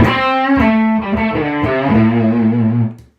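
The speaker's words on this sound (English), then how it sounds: "I've got a generous amount of distortion on, it's about 12 o'clock." An electric guitar played through a King of Tone overdrive pedal with heavy distortion rings out in sustained, buzzing distorted chords that change a few times, then cut off sharply.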